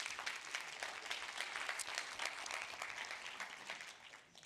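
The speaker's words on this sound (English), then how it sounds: "You can give her a warm applause." Warm audience applause greets a pitcher at a research presentation event, a steady wash of many hands clapping that is fairly faint and distant, fading slightly toward the end.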